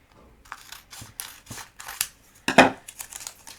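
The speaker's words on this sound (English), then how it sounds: "I'm just going to cut this off" Scissors snipping through paper up close, a run of several crisp cuts with one louder, longer slice near the end, in a quiet room.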